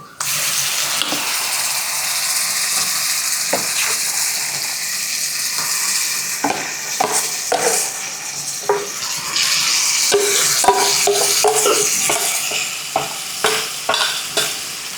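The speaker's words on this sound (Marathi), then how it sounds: "आता यामध्ये लाल तिखट चांगलं मिसळून घेऊयात." Cooked ambadi greens stirred with red chili powder in a pan, a steady sizzle with frequent scraping and tapping of the spoon against the metal, close and continuous with no talking.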